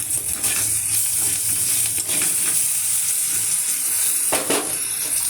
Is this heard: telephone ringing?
no